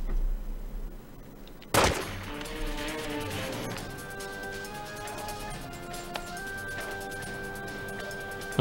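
A single loud gunshot cracks out early in a shootout from The Godfather: Part II video game, followed by a lingering ringing tail and a steady hum of game ambience with no further shots.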